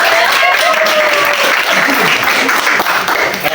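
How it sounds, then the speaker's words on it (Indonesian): An audience claps in loud, sustained applause at a talk, with a few voices and cheers mixed in. "tepuk tangan dulu"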